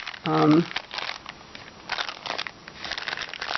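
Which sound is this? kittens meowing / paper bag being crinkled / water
paper bag being crinkled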